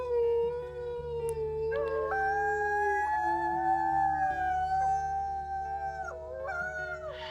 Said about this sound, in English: Let's go ahead and do a double howl.